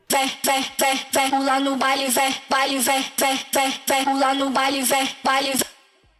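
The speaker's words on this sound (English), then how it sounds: "There's this kind of like Brazilian funk sample" A chopped Brazilian funk vocal sample repeats in short, punchy stabs with brief gaps between them, loud and up front, then fades out at the end.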